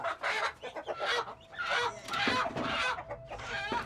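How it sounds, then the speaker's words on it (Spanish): A chicken clucks and squawks close by, with a run of excited, uneven calls following one another over a few seconds, fairly loud against a faint background hum. "gallina."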